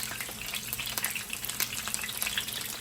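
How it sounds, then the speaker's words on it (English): Chinese stuffed peppers filled with fish paste, laid paste-side down in hot oil over medium-high heat, fry with a dense, even crackling sizzle. The spatter stays close and constant and nobody speaks. "I'm gonna place in the peppers with fish paste down"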